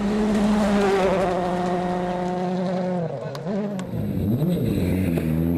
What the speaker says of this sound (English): Jari is literally throwing his Ford through Old-Tartes